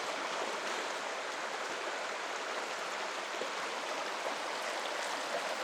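Bluff Creek at the Sasquatch film site rushes in a steady, even wash of flowing stream water, close and constant with no voices.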